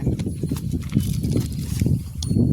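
A village cattle herd walks home in the evening down a hillside, hooves clopping and shuffling in a dense, uneven patter close by over loose ground.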